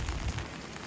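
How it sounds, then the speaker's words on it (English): Steady rain falling outdoors near a resort dock, a continuous broadband patter with low rumble from wind or handling, fairly quiet and unbroken with no talk. "It's raining"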